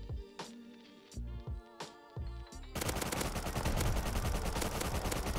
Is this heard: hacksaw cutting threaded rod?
no